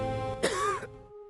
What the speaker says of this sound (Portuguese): Uma tosse.